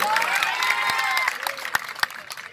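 A political rally crowd claps and cheers, dense applause at first thinning into scattered individual claps, with a few voices in the background.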